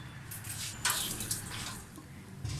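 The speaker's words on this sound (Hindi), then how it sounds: "ये पानी बॉईल होना स्टार्ट हो गया है" Water for pulao heats in a covered pot, giving soft bubbling and gentle sputtering with faint rising hiss, quiet and close, with a few brief louder pops.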